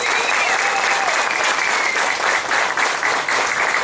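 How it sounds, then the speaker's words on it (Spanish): A crowd at a political meeting held in a home gives a loud, sustained round of applause, dense clapping that holds steady throughout. "quiero pedir un fuerte aplauso para cada uno de ustedes"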